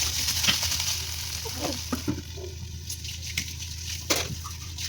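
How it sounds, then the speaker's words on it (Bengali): Banana stem cooking in a pot, pressed and stirred with a ladle: a steady soft sizzle runs throughout, with scattered scraping knocks and a couple of sharper clacks of the ladle against the pot, close up and without talk. "থোড়গুলোকে হাতার সাহায্যে ভালো করে চেপে চেপে দিতে হবে, তাহলে খুব সুন্দরভাবে গলে যাবে এটা।"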